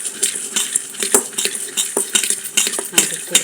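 Girmit mixture being stirred with oil in a metal bowl or pan, Hubballi-style snack preparation, giving a steady run of close scraping and clinking strokes of a spoon against the vessel, with no talk.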